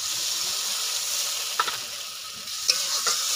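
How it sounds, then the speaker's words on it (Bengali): Water goes into fried masala and potatoes for a Bengali pomfret curry, raising a loud continuous sizzle and steam hiss, with a few soft scraping stirs near the end. "পরিমাণ মতো জল দিয়ে দেবো"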